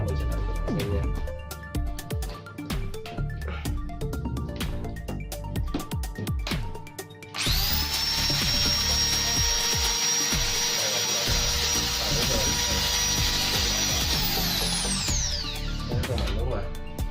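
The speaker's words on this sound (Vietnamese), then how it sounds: "máy này sẽ có hai chức năng, đó là khoan sắt, thép, gỗ bình thường và khoan bê tông tường" A Hitachi DV13VSS power drill runs at high speed in a shop, first rubbing and clicking noises, then a sustained loud whirring motor whine from about seven seconds to the end, with a brief voice early on.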